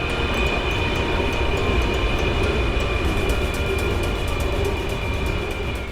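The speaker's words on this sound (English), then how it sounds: "Here comes another train." A train rumbles past close by a condominium in Kuala Lumpur, Malaysia, with a loud, continuous roar and a rhythmic metallic clatter of wheels over the rails.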